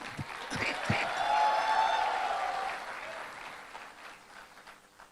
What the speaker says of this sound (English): Can clap for me also, even I showed up.